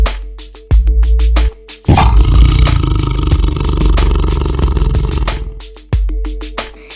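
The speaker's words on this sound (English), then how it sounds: "A tiger." A tiger lets out a loud, sustained roar lasting several seconds, set between short bursts of bright music.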